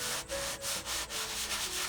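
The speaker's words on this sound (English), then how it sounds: "I'm using a little bit of 220 grit sanding sponge here" Rhythmic scratchy rubbing of a 220 grit sanding sponge on a wooden piano bench, several quick back-and-forth strokes, close and clear.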